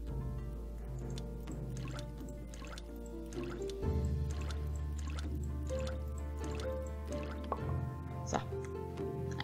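Water poured in the Graveyard Keeper game, a run of soft drips and liquid filling sounds over steady background music, fairly quiet and with no talk.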